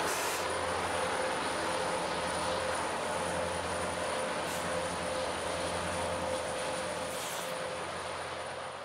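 A model railroad train heads out on a layout, giving a steady, unbroken motor drone with a constant high whine for the whole stretch, moderately loud and alone.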